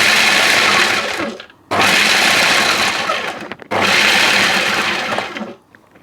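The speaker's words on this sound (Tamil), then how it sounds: "வால்நட் ஒரு கை, இதை வந்து ஒரு அடித்து வச்சுக்கொள்ளுவோம்" An electric blender grinding a handful of walnuts in three loud bursts, each a roaring whir with cracking nut pieces, separated by short pauses as the motor winds down.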